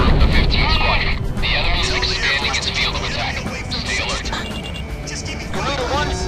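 Special-weapon explosions in the Ace Combat 6 video game rumble and boom in a dense, continuous barrage, with radio chatter and jet noise layered over the blasts throughout.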